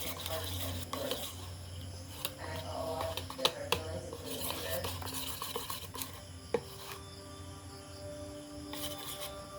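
Pancake batter is stirred in a bowl, giving faint, repeated scraping and clinking strokes over a low background hum.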